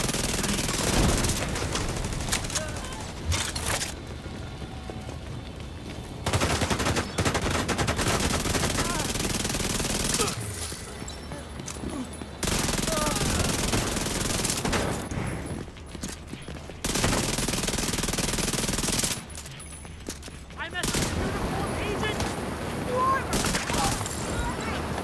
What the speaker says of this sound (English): Stop shooting my turret.